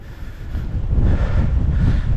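Strong wind buffets a winter wild camp in Northumberland, a loud, continuous low roar that rises and surges in gusts, with no one speaking.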